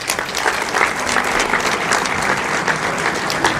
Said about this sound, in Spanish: vamos a darle un fuerte aplauso a los 4 hermanos.